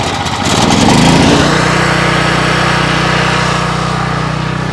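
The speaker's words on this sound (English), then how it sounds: "Since we're having to use the generator," Portable generator engine catching on a single pull, a brief rattling start that settles into a steady, loud, close running drone with no talking.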